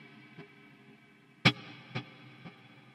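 A dead, muted electric guitar note, played through a large stock Cave reverb, gives a sharp attack followed by a long, broad decaying tail, with a few softer muted plucks around it, alone and fairly quiet.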